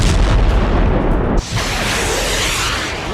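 Hezbollah rocket strikes on Israeli military sites: a loud, close blast roars across the whole range, then breaks off briefly before a sustained rumbling boom continues and slowly fades.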